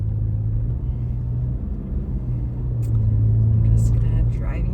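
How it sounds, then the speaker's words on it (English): A car drives through a residential neighborhood of Santa Clarita, California, its low engine rumble and road noise steady and close throughout, swelling slightly louder near the end. "I'm just gonna drive you around for a few minutes."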